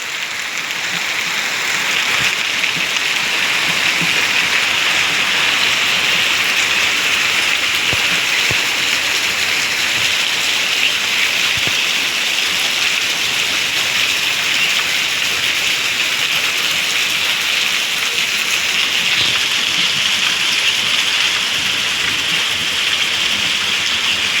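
Steady rain falls all day, a dense even hiss of drops on surfaces that holds constant and fairly loud for the whole stretch, with no voices.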